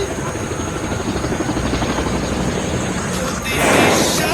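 A helicopter's rotor chops loudly and continuously close by, a dense pulsing roar that swells briefly near the end.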